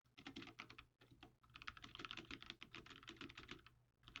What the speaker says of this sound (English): you can simply begin typing